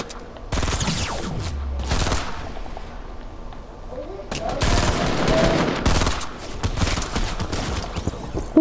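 Video-game gunfire crackles in two dense bursts of rapid shots, loud and close, separated by a short lull, with a player's voice in the mix.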